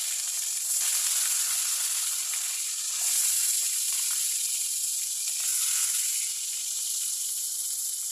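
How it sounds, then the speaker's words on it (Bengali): Local sarputi fish fry in hot oil, giving a continuous, steady bright sizzle and hiss with slight swells, heard close and alone without any talk. "এগুলো দেশি সরপুটি মাছ আমি এখন সরপুটি মাছগুলো ভাজি করে নেব"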